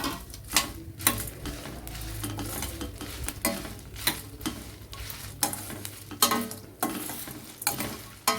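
Mustard seeds, cumin and fenugreek frying in a pan for dried-prawn podi karam, a steady loud sizzle with repeated rhythmic scrapes and clinks of a spoon stirring against the metal, close up with no talk.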